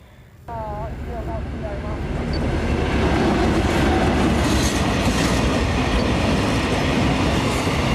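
Thai freight train no. 528 rolls loudly and steadily through Klang Dong station, a dense roar of wheels and rail clatter building after a brief quieter start and continuing without a break.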